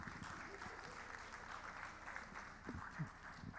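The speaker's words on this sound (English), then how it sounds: "Please, a round of applause for them once again." Audience at a journalism event applauds, a faint, distant spread of clapping held steady throughout with a few louder claps and low crowd murmur.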